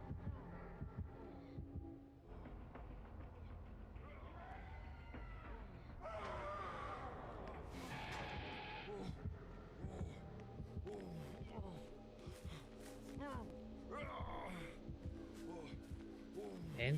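A throbbing heartbeat from Dead by Daylight pulses in a repeated rhythm under creepy music and game noises, with a voice murmuring in the mix.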